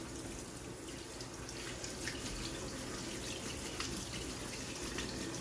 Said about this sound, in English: I'm going to rinse these off with some cold water